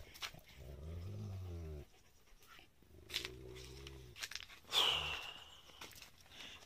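A dog growling inside a camper truck, two low rumbling growls of about two seconds each, close and moderately loud, followed by a brief sharper noise and quiet rustling.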